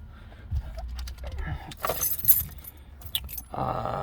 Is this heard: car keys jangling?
yes